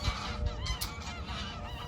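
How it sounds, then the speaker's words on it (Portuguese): Geese honk repeatedly close by, loud harsh calls in quick succession over a busy outdoor background with no talking. "os gansos estão mandando vocês deixar o like aí"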